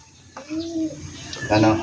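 Pigeons coo close by in a home loft at feeding time, a soft low throaty call rising twice over quiet background.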